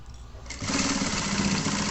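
A sewing machine runs steadily as it stitches small reinforcing stitches on a fabric hanger organizer, starting after a half-second pause and continuing as a close, even mechanical hum.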